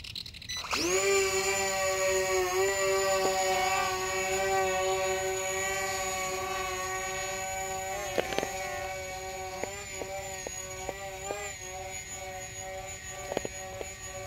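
An XK X520 VTOL drone spins up and takes off with a steady, high-pitched whine of its motors. The whine holds close and loud, wavering slightly, while scattered clicks and knocks sound in the background.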